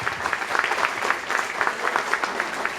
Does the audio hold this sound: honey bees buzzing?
no